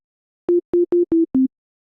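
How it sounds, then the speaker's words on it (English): A pure sine-wave synth tone from a freshly initialized Ableton preset plays as five short, evenly spaced beeps at a steady low-mid pitch, the last slightly lower, clean and alone with no other sound. "brand new preset, initialize preset, basic shapes, the sine wave"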